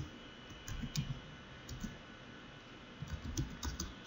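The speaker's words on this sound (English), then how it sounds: "So let's type that again." Computer keyboard typing while configuring switch port security in a networking exercise, with soft, irregular clicks in short bursts at a low, quiet level.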